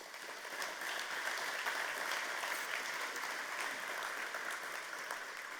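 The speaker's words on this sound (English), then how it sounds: "Let's give our sponsors and partners a round of applause." An audience at a technology summit applauds its sponsors and partners, steady dense clapping from a crowd throughout, with no voices over it.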